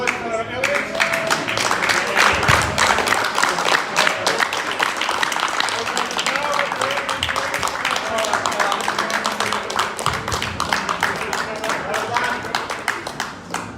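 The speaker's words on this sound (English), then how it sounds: "Round of applause for Eliot." Audience applause following the final of an AGP match, a steady dense wash of clapping that holds throughout at fairly close range, mixed with crowd noise.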